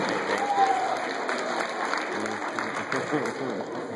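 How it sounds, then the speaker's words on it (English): Audience applause at a student award presentation, a moderate steady patter of clapping with murmuring voices and faint cheering mixed in. "how about a round of applause for all the adults that can make it and join us to help share your recognition"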